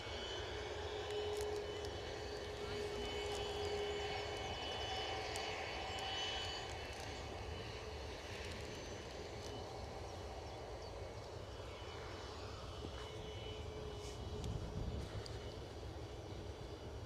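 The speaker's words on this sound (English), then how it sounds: "Looks like our Dreamliner is lining up" A Boeing Dreamliner jet lines up on the runway at Edinburgh Airport on a windy day, its engines giving a steady, distant low rumble and whine that runs unbroken throughout.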